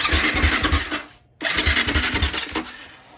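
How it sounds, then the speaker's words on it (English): A KTM motorcycle engine cranks over with the kill button held so it never fires, a rapid rhythmic whirring starter with a short gap before a second burst of cranking. "Hold the kill button down and hit the start button."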